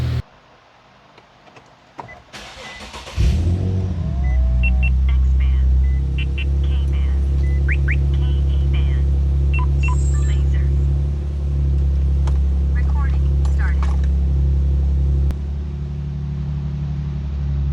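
An Infiniti G37 sedan with a Fast Intentions cat-back exhaust cranks and fires up, then settles into a steady, loud, deep idle around 1,000 RPM, with people talking over it.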